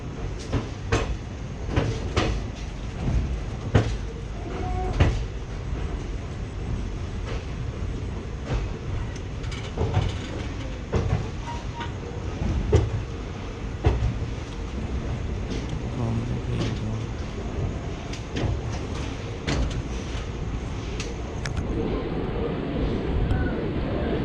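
The Purna Express pulls into platform 1 at Pune Junction with a steady, low rumble of rolling carriages, broken by repeated sharp clanks and knocks from the wagons as it slows.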